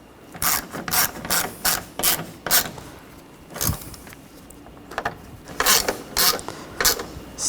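A ratchet wrench snugging down a bolt on a 2013-2019 Ford Escape 2.0L four-cylinder engine, clicking in short repeated bursts of pawl ticks with brief pauses between strokes, close and clear.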